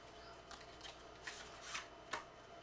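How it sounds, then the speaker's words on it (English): A card is pulled from a deck of play money cards at a table, giving a few faint, soft papery flicks and slides close by in a quiet room. "So I think I'm going to pull a card."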